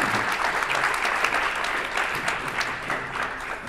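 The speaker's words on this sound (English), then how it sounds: "maybe we give a big applause to the podium right now" A conference audience applauds a panel of financial experts discussing the future of money, producing steady, dense clapping that fills the room at an even level from start to finish with no voices over it.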